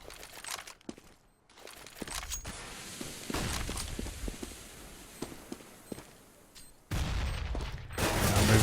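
Bursts of gunfire ring through smoke in a Counter-Strike match, sharp repeated shots with clattering bursts, growing denser and louder toward the end.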